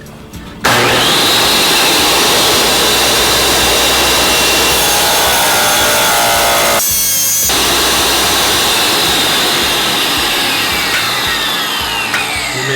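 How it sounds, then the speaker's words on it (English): A tile saw fitted with a resin bond blade cuts glass tile. It starts with a sudden loud whine, then a sustained high grinding screech holds steady for about twelve seconds, with a short dip partway through. "Go ahead and lower the saw back down."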